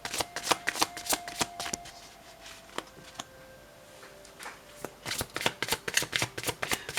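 A Klimt gold tarot deck is shuffled by hand, giving bursts of rapid, crisp card riffles and flutters at the start and end with a quieter patch between, close and with no voices.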